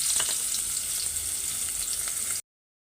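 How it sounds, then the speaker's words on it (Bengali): Onions and bay leaves fry in hot oil with a dense, hissing sizzle and scattered crackles, close and steady, before cutting off abruptly into silence. "লাল লাল করে ভেজে নিই।"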